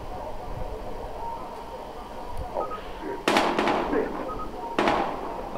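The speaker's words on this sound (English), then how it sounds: "We've got gunshots" Gunshots ring out in the video game Battlefield Hardline as two sharp, loud cracks a second or so apart, over a steady noisy background of combat ambience.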